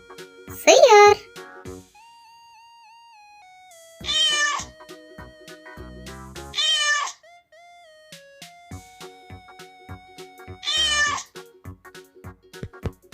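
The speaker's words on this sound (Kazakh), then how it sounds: "Мысық." A cat meowing, four distinct drawn-out meows spaced a few seconds apart, alternating with someone speaking and soft musical tones.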